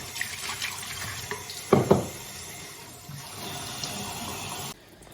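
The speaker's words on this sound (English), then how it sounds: "filling and dumping the tank a few times." Water runs into and is poured out of a film development tank during the final wash, with steady splashing and a louder gush midway, then a sudden cut to quiet.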